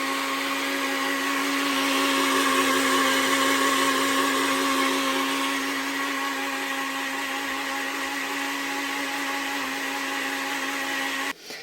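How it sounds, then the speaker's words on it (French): A blender runs steadily on a Powerness Hiker U1000 portable power station, a constant whirring motor drone with a strong tonal hum that holds level for about eleven seconds before cutting off abruptly at the end. "j'ai testé sur un blender, avec un blender justement, les mixeurs, vous savez. Ça fonctionne sans problème."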